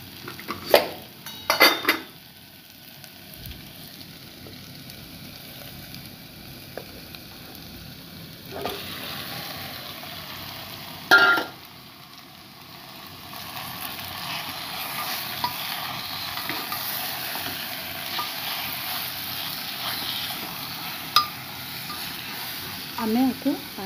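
Mutton frying in a pot with garlic, ginger and spices for a desi mutton jhol, steady low sizzle throughout with occasional stirring scrapes and clanks of a utensil against the pot, close by.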